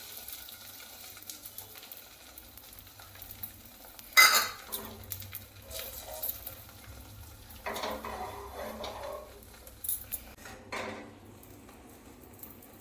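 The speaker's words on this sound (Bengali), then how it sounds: "এবার কড়াইয়ে ডিমটা ছেড়ে দেবো।" Beaten egg with chilli and salt cooks into an omelette in a kadai, with a soft hiss of frying and a few sharp metal clinks and scrapes of a spatula against the pan, close, with no talking.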